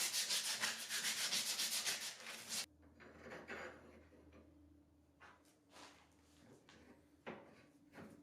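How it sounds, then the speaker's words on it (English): A chassis component is sanded and cleaned up close. A loud, steady rasp of abrasive scrubbing is followed by quieter intermittent scraping and rubbing strokes with short gaps between them. "I'll sand and clean this area a little better."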